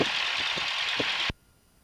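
Cessna 150M light aircraft engine idling at about 1,000 RPM, a steady close drone that cuts off abruptly partway through.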